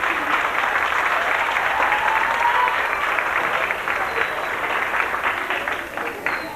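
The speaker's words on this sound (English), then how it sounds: "Let's have another round of applause for the varsity boys volleyball team." A banquet crowd at a 1990 high school sports awards dinner gives a steady, dense round of applause for the varsity boys volleyball team, sustained for several seconds and easing slightly near the end.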